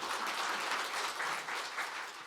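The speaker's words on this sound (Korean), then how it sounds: "여러분 큰 박수 부탁드리겠습니다." Sustained audience applause fills a hall at a policy forum on women's business policy, a dense, steady wash of many hands clapping together without pause.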